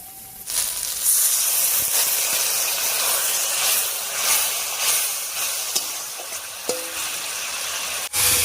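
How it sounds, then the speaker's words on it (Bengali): Ground spice paste with water sizzles and hisses loudly in the pan for a magur fish curry, a steady close frying hiss with a few clinks of a utensil against the pan and no talking. "এবারে মশলা বাটা জল দিয়ে খুব ভালো করে কষিয়ে নেব।"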